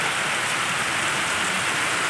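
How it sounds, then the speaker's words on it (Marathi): Heavy rain pours down steadily, a dense unbroken hiss of drops with no voices. "जास्त मोठा पाऊस चालू आहे"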